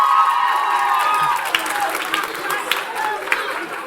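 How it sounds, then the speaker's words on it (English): Young audience at a care careers conference applauding and cheering, a burst of clapping mixed with shouts and crowd noise that quickly thins out, with voices talking over it. "Give yourselves a round of applause."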